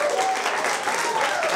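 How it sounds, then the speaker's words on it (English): A short burst of studio audience applause for a guest on a live interview show, brief and even, with faint voices underneath. "ladies and gentlemen. Round of applause."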